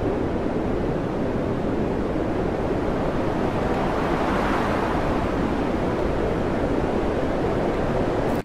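Stormy North Sea waves in winter crash and churn steadily, a loud, dense roar of surf with wind noise buffeting the microphone throughout, no voices.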